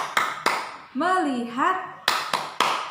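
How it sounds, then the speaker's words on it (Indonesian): Sharp claps from children in a classroom clap chant, a pair at the start and a burst of three near the end, with a sung chanting voice in between. "sekarang kita tepuk sama-sama"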